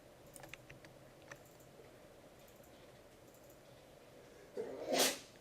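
A single sudden sneeze bursts out near the end, loud against a quiet room with scattered faint keyboard clicks before it.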